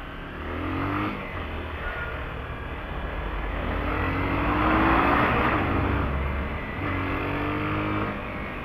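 A car drives through city traffic in Joinville on a two-lane road. The engine hum and road rumble hold steady throughout, rising slightly near the middle as it speeds up to overtake, with no voices.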